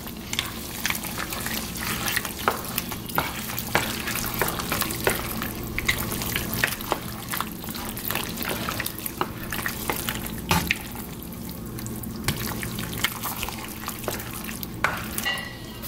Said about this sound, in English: You want to just go ahead and stir that on in with it.